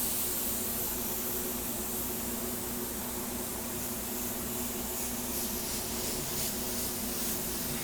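An airbrush sprays paint in a steady, continuous hiss that runs close and loud through the whole stretch, with a faint low hum beneath and no talking.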